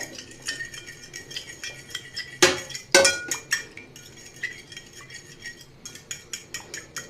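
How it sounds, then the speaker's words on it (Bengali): Egg and milk mixture being whisked in a bowl, a quick rhythmic clinking of utensil against the bowl with two louder knocks partway through. "ভালো মতো ফেটিয়ে নিচ্ছি।"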